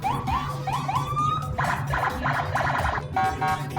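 A police car siren wails through a few rising sweeps, then changes to a fast, pulsing yelp, loud and continuous over a low road rumble.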